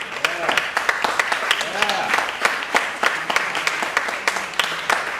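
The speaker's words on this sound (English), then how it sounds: "I'd like you all to give us a nice round of applause for our Executive Director, Dr. Matthew Coley." Audience applause at a summer music festival mallet percussion concert, steady dense clapping throughout with a voice speaking over it.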